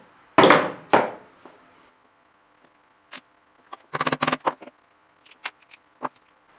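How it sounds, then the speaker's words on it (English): Sharp metallic taps and knocks from a hammer on a metal differential part land in irregular bursts, some grouped in quick clusters, separated by near silence. "I've used my hammer to put it back together."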